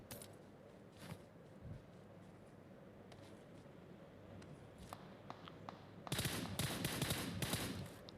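Gunfire from a squad battle royale video game crackles faintly in scattered single shots, then bursts into denser rapid firing toward the end, heard without talking.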